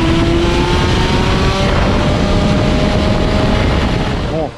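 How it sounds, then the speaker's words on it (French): Motorcycles running beside a karting track make a loud, steady engine roar with rising and falling whines that fills the whole stretch and fades slightly at the end. "Les bruits que vous entendez, c'est pas le kart, hein, c'est les motos à côté."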